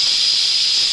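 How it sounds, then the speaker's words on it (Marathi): Pressure cooker releasing its whistle while dum aloo cooks on a gas stove, a sustained loud high steam hiss held steadily throughout. "आता कुकरची एक शिट्टी होऊ देऊया आपण"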